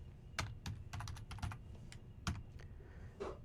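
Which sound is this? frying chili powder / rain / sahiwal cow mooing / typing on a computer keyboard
typing on a computer keyboard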